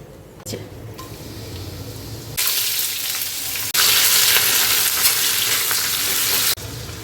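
Onion, ginger, chilli, tomato and garlic fry in a pan, starting quietly, then bursting into loud steady sizzling that jumps higher midway before dropping off near the end.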